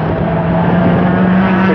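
Stock cars racing at Waterford Raceway, a loud continuous engine drone holding a steady pitch over a short stretch, with no gaps.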